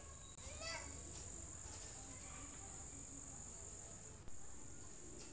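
Crickets chirp in a steady, high, continuous drone after evening rain among washed leaves and flowers, with faint distant children's voices and birds in the background throughout.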